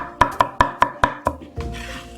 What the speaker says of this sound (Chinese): 我们拍好之后呢，给它轻轻的剁几下